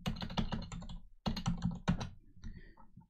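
Keys clatter on a computer keyboard as a command is typed at a Windows command prompt, with two quick bursts of close, crisp keystrokes split by a short pause and a final lighter run of taps.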